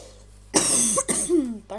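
A person coughs a few times up close, harsh throaty bursts separated by brief pauses.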